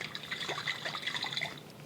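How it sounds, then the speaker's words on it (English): Chicken broth is poured into a bottle with a light liquid trickle and sloshing, followed by faint dripping splashes, close and quiet. "I'm gonna pour my chicken broth in here and give it a shake to get the rest of it out."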